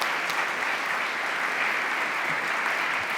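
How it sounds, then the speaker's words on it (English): An audience at an innovation conference pitch session applauds, a dense, even wash of many hands clapping that stays at a steady level throughout, with no voices over it. "please one more round of applause for them"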